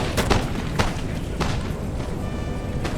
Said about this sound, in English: we have a skirmish here between Imperius' lights and a musketeer unit. And also a Prussian Fusilier probably shooting that musketeer in the back.